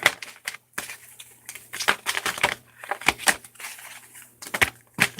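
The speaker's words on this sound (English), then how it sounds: "I'm gonna shuffle. And pull from the bottom." Tarot cards are shuffled by hand at close range, giving a quick series of dry, papery clicks and riffles in uneven bursts with no voices.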